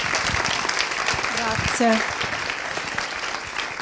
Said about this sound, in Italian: facciamo un applauso anche a Viso